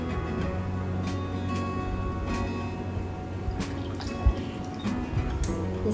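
Homemade kombucha is poured slowly from a larger vessel into a smaller bottle, giving soft, continuous liquid trickling and drips over a steady background hum, with no voices.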